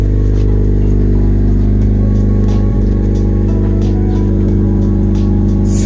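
A high-mileage Honda Civic with close to 300,000 miles, slightly overfilled with oil, runs close and loud with a steady, even engine drone and a faint rise in revs, heard alone without talk.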